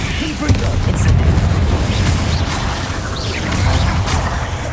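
Bombarda explosion spell cast in Hogwarts Legacy: dense, rumbling blasts and crashing debris churn continuously at loud level, with a voice chanting the spell name over the rolling booms.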